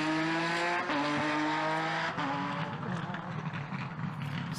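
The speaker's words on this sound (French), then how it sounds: "Une Porsche de 400 chevaux. Pas facile de la conduire sur les routes glissantes de Tielt." A 400 hp Porsche rally car races along slippery roads at a rally near Tielt, its engine droning loud and steady with shifting pitch throughout, while a commentator talks over it.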